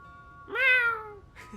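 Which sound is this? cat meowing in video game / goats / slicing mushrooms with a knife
cat meowing in video game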